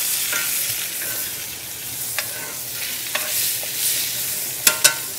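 A thick cowboy steak sears on a hot grill after being flipped, giving a loud, steady hiss of sizzling fat with a few sharp pops and crackles near the end, close and without talking.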